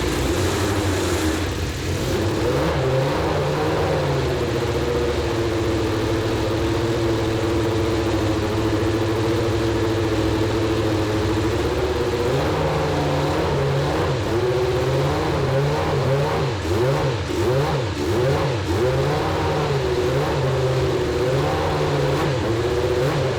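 IndyCar race car engine at close range, idling steadily before a series of sharp, rising revs that climb toward high RPM and drop back, a loud continuous mechanical roar with no talk.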